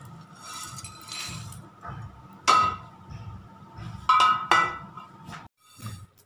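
Poppy seeds dry-roasting in a pan give off sharp, scattered crackles and pops, with several louder bursts standing out over a low, steady background hum.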